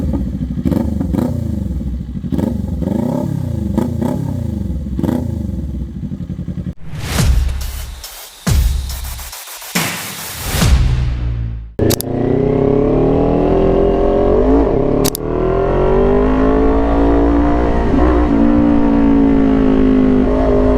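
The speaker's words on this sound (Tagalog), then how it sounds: "ito yung sample check ng muffler natin." Kawasaki Ninja 400 motorcycle with an aftermarket muffler, exhaust revved repeatedly: a steady idling rumble with rhythmic throttle blips, then sharp loud revs and crackles, settling into a sustained droning engine note.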